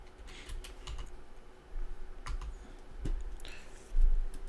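A computer keyboard being typed on for a search, in short quick bursts of close clicking keystrokes with brief pauses, alone over a faint steady hum.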